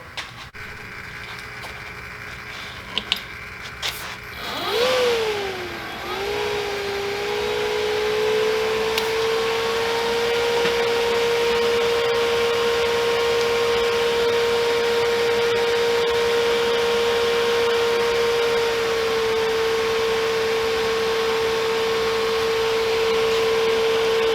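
A Miller Dynasty 200 DS TIG welder remelts a broken knife with a sharp tungsten, a few faint clicks giving way to a steady, close electrical hum with a sustained tonal whine that holds unbroken for about twenty seconds.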